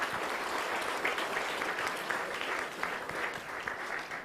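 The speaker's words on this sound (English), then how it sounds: "Can we have a big round of applause" An audience at a panel discussion on innovation and startup ecosystems gives a round of applause: dense, continuous clapping from a room full of people, steady and moderately loud for the whole span.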